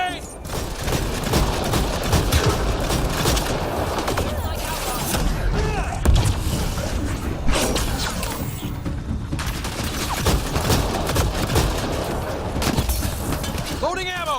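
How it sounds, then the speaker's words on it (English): Gunfire and a grenade blast in Mass Effect Andromeda combat, with repeated sharp shots, thuds and clattering impacts over a steady battle din, and voices calling out between. "Watch the grenade!"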